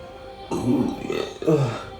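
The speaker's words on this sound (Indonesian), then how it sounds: "Sorry maaf ya guys, aku sendawa." A single person burps twice during a live stream in a small room, two short throaty belches close to the mic, the second following a brief pause.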